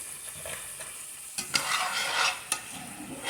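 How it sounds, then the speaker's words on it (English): Chicken curry with chicken stock boils down to a paste in a pan, giving a steady close sizzle and bubbling broken by a few sharp scrapes of stirring. "you can see how that chicken stock is boiling down and everything's turning into a nice paste here"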